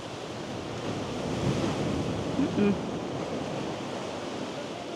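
Steady broadband roar of stormy autumn Black Sea surf washing in at Fontanka near Odesa, with a continuous wash of muddy water and some wind noise, no distinct breaks between waves.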